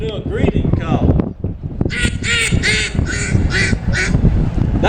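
A handheld duck call imitates a mallard hen's greeting call: a run of bright, evenly spaced nasal quacks sounding close and loud, following a stretch of talking at an outdoor music festival.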